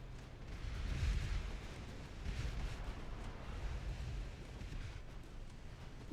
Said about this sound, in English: They have launched torpedoes.